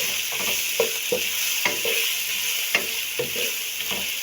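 Steady sizzle of food frying in a pan seasoned with chili flakes and salt, broken by repeated scraping strokes of a spoon stirring, close and clear with no talking.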